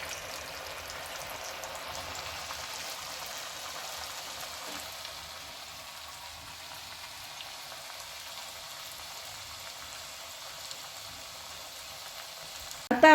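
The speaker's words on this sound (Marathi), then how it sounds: "आता आपली एका साईडने चकली तळून झालेली आहे." Chakli fry in hot oil, giving a faint, steady bubbling sizzle that stays even throughout, ending in a brief louder knock.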